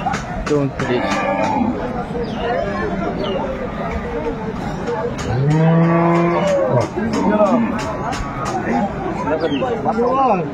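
At the Aftabganj cattle market in Dinajpur, where dairy cows and calves are traded, loud close moos and lowing rise over a babble of buyers and sellers talking, with several long calls from one nearby animal.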